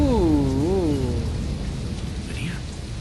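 A storm with rain and thunder in the video game Deadlight makes a steady, loud wash of rain that fills the whole stretch, while a voice calls out over it at the start.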